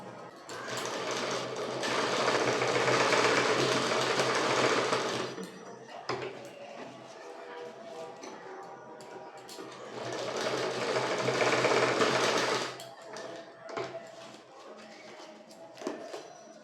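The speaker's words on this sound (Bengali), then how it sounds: "এবার এটাকে এইভাবে মুখোমুখি রেখে এটাকে সেলাই করে দেবো" A sewing machine stitches elastic onto a skirt in two long, steady runs of fast, close whirring, each lasting several seconds, separated by quieter pauses with faint handling noises.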